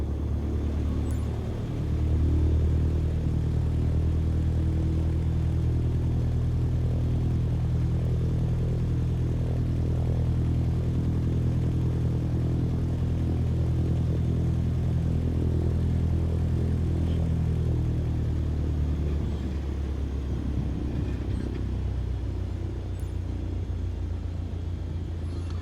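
Plane engine in Microsoft Flight Simulator 2020 while taxiing into position for takeoff, a continuous low droning rumble that holds steady throughout and eases slightly near the end.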